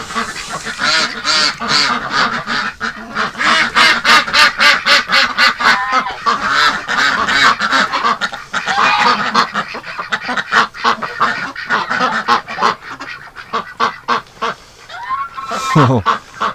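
Ducks and geese wintering indoors during extreme cold make a dense, loud chorus of overlapping quacks and honks, with rapid repeated calls throughout and a rising squawk near the end.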